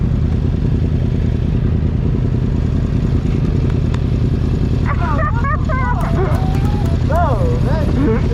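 A Honda CBR1000RR 1000cc sport bike pulls a clutch-up wheelie in second gear, its engine a loud, steady, close drone throughout, with voices talking over it in the second half.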